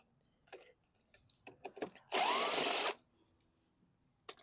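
A power driver fitted with a 7 mm socket backs carburetor screws out of a 2016 Husqvarna AWD lawn mower, one loud whirring burst of under a second, preceded by scattered clicks and handling of hardware.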